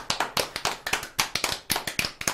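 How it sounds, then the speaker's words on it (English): Quick, close claps at a radio show reading, sharp and uneven and coming in a short burst, as if from a small group. "Round of applause."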